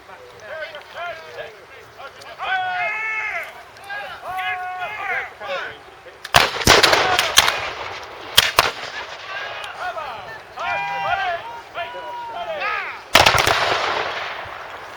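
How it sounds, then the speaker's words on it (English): Reenactors fire period muskets in sharp, loud volleys: a burst near the middle, a couple of further cracks, and another volley near the end, with someone speaking over the scene between shots. "By firing with forlorn fire, you get to advance whilst keeping up a continuous amount of shooting."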